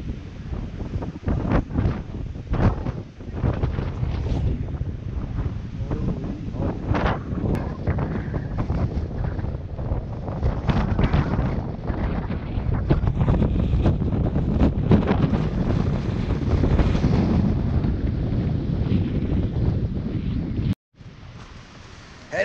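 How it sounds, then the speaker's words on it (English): Strong wind on an Adirondacks mountaintop roars and buffets the microphone continuously, loud gusts rising and falling with a brief dropout near the end. "So windy up there."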